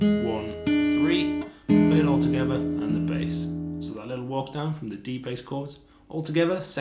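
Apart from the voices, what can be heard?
No everyday noise stands out behind the speech.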